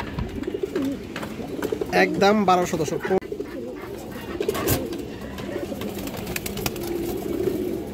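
Kaldom high-flyer pigeons coo in low, repeated bursts close by while someone talks over them.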